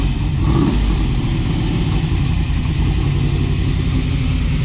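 A yellow 1962 Chevrolet Corvette with a 400 small-block engine, loud and close, holding a dense steady rumble with a slight swell in revs early on and no talk over it.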